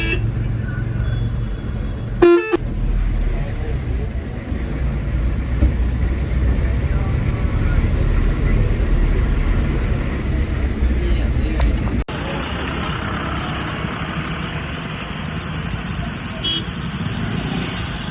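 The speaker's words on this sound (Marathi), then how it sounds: "बघू शकता इथून लई ट्रॅफिक लागतं" Heavy road traffic on the route from Haridwar toward Sonprayag, a steady engine rumble with a sharp car horn blast early on, heard near from a bus while people talk.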